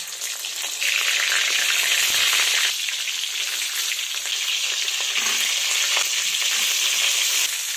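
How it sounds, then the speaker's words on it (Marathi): Stuffed brinjals (eggplants) dropped into hot oil with mustard seeds and cumin, a loud, dense, continuous frying sizzle that swells after the first second and holds steady, close up with no talk. "वांगे अगोदर छान असे आपण परतून घेऊयात"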